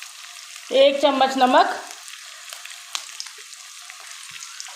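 Potatoes frying in a pan with ground red chilli, salt and turmeric, a soft steady sizzle with light stirring running under a short burst of speech near the start.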